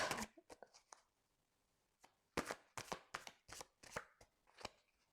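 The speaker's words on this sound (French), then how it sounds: "Allez, on va faire une coupe." Cards in a tarot-style reading being cut by hand: a quick run of crisp riffling and tapping at the start, a pause, then a series of sharp close slaps and shuffles as the deck is split and restacked.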